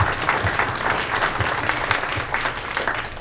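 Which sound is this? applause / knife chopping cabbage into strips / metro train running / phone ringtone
applause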